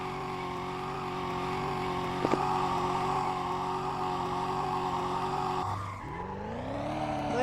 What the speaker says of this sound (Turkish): Drift atıyoruz aşağıya.